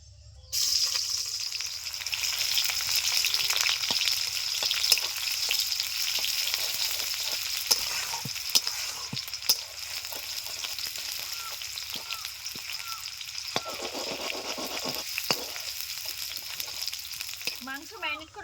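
Chopped onions with salt fry in a pan with a continuous crackling sizzle, punctuated by scattered clicks and stirring knocks; the hiss lightens toward the end and nobody speaks.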